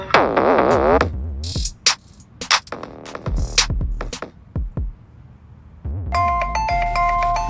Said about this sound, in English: Oh no, my phone is ringing.